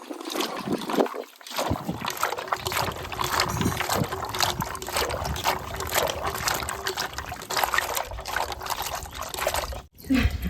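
Soya chunks being washed in water by hand in a kitchen: continuous close sloshing, trickling and splashing of water, moderately loud, with brief dull knocks and a short gap near the end.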